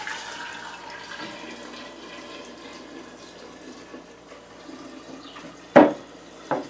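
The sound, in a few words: pouring distilled spirit from one jar into another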